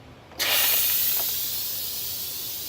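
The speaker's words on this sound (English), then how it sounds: "I'm going to hit my steam release button" Steam blasts out of a Pampered Chef Quick Cooker electric pressure cooker as the release button is pressed, a sudden loud continuous hiss that starts abruptly and holds steady, tapering very slightly.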